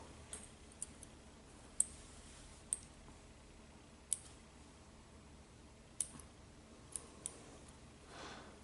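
Several sharp, isolated snips of scissors clipping thread, spaced irregularly, sound close against a quiet hiss.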